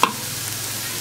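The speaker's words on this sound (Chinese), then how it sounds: "我再稍微炒一下就行" Homemade pickled radish greens stir-fried in a pan, a brief scrape of the spatula at the start followed by steady soft sizzling, close and alone.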